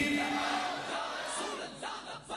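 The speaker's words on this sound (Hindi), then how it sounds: "आप दे खिताब शुरू करन तो पहले एक जोरदार नारा लगाओ, नारा तकबीर" A crowd at a religious gathering, an Urs mehfil in Pakistan, chants the Nara-e-Takbir slogan in unison, a loud sustained collective shout that fades slightly and breaks into a few scattered calls at the end.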